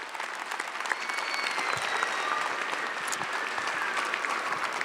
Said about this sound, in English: let's give them a round of applause for their extraordinary work